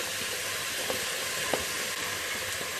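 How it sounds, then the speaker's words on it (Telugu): Drumstick pieces, sambar onions and green chili fry in oil, giving a continuous soft crackling sizzle with a couple of faint clicks, close and fairly quiet. "పచ్చిమిరపకాయ ముక్కలు వేసి 2 నిమిషాల పాటు కలుపుతూ వేయించుకోవాలి."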